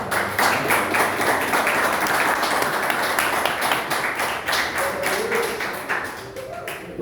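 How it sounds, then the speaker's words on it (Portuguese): A church congregation applauding during a service, dense clapping with some rhythmic, tapping claps that loosen toward the end, with faint talk underneath. "Pode acertar nesta noite, louvado seja Deus, e aplaudir ao Senhor,"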